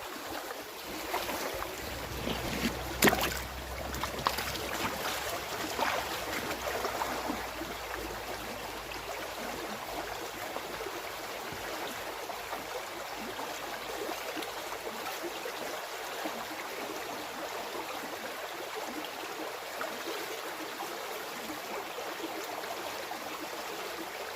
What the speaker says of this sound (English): let's get this last bucket, run through the sluice, do a clean up and see if we've got any Cornish gold